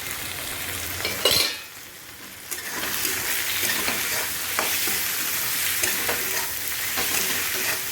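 Turmeric, cumin, salt and chilli frying in a hot pan in a home kitchen, with a steady crackling sizzle and scraping stirs throughout.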